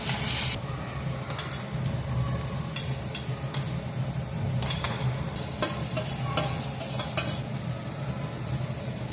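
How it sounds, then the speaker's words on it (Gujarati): Capsicum, chillies, onion and tomato fry in a pan with garlic paste, producing a continuous loud sizzle with repeated scraping stirs of a spoon, close up and with no talking. "પછી કેપ્સિકમ, મરચાં, ડુંગળી અને ટામેટું બધું ધીમે ધીમે કરીને આપણે એમાં ઉમેરી દઈશું"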